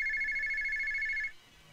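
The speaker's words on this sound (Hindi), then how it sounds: "ये बेवक्त किसका फोन है?" A landline-style telephone rings with one loud electronic trilling burst lasting over a second, then cuts off into quiet room tone, in a Hindi action film scene.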